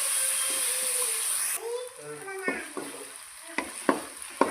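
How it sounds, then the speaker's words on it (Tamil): Ginger garlic paste being sautéed for a Tamil-style chicken curry, a steady sizzle with a few scraping stir strokes and clinks of a spoon in the pan, and a voice speaking briefly over it. "இஞ்சி பூண்டு பச்சை வாசனை போகிற வரைக்கும் நம்ம வதக்கி விட்டுக்கலாம்"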